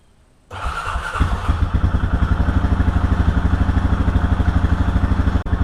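A Honda 420 ATV with a freshly rebuilt top end cranks and fires after about half a second of quiet, then settles into a loud, steady, close-up chugging idle with a regular pulsing beat until it cuts out abruptly near the end.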